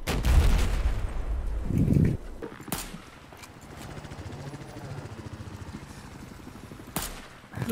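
Gunfire in Battlefield 4: a couple of heavy shots and bursts at the start, then a sustained rapid rattle of automatic fire through the middle, with sharp single cracks near the end.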